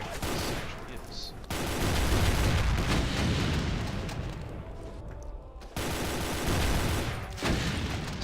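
A weapon firing in Brutal Doom, heavy booming shots landing in a dense, continuous barrage with loud blasts, close and dominant over faint game sounds.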